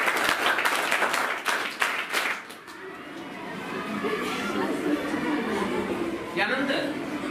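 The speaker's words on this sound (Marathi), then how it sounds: "तिच्यासाठी एकदा टाळ्या." Applause at a school award ceremony as a student receives a trophy, a burst of crowd clapping that fades after a few seconds into hall chatter and murmuring voices.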